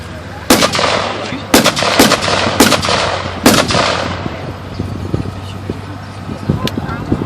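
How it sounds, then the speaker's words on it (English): A Bren gun, a .303 light machine gun, firing at a wartime museum open house outdoors: several sharp loud shots in quick bursts over the first few seconds, then fainter distant reports, with crowd chatter and a low engine hum underneath. "there's one right now firing its Bren gun"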